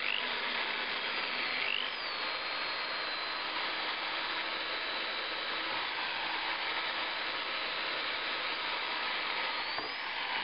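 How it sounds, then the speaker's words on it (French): Steady, close whine of a drill boring a hole while making a pneumatic pin, holding at an even level for the whole stretch with a slight dip near the start. "le perçage."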